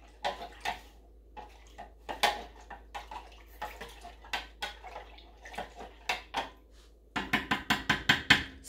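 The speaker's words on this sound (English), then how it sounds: "Let's stir that with the metal spoon I'm stirring." A metal spoon stirring a homemade dish soap mixture in a container, repeated close clinks and scrapes in a steady rhythm with a faint sloshing underneath, speeding into quicker taps near the end.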